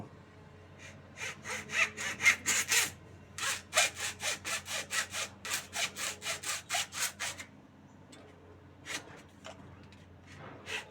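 Rapid bursts of a hand tool biting into material as holes are made in a homemade eel trap, close and loud, with short pauses between runs of strokes and no talking.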